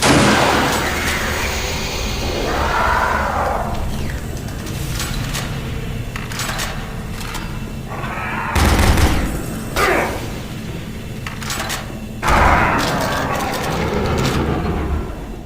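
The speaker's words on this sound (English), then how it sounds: "It's funny how much louder the shotgun blast is than every other weapon." Heavy shotgun blasts from Doom 3: Resurrection of Evil, a few loud booming shots spread through a steady backdrop of game noise and ambience.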